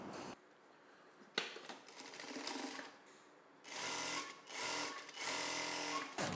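Sewing machine stitching a hook belt onto a cross-cut blouse piece from the wrong side, running in several bursts of steady rapid stitching separated by brief pauses, close and fairly loud with no voices.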